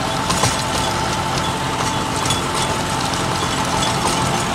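A 2004 model John Deere tractor on 16.9-28 tyres, fitted with a rotavator, runs with a steady rumbling engine drone and some light clinking, close and loud without talk.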